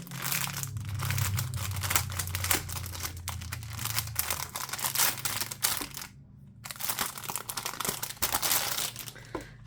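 A plastic package holding a diamond painting kit is torn and opened by hand, giving close, continuous crinkling and crackling of wrapping with brief tearing bursts and a short pause.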